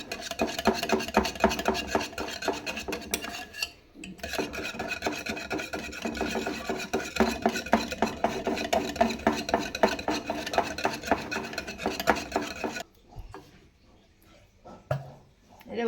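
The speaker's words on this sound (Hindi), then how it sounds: "तो दही भल्ले वास्ते मैं दही में चंगी तरह फेंटांगी" Yogurt (dahi) whisked in a bowl for dahi bhalla, a steady rasping, rubbing scrape with quick rhythmic strokes running near and loud, a brief pause partway, then stopping near the end.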